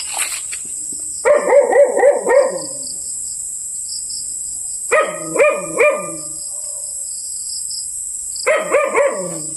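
A dog barks loudly and close in three bursts of three or four rapid barks, separated by pauses, over a steady high insect drone.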